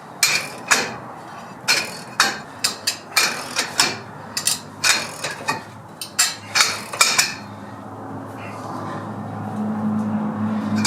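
Ball joint press being cranked tight on a Ram 2500 4WD front axle, giving a series of sharp metallic clicks and clanks at an uneven rhythm, close and fairly loud, then a steady low hum at the end.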